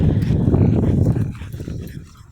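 Dogs on a walk near a horse being rescued, with short close barks and whimpers bunched together in a loud burst that fades out after about a second.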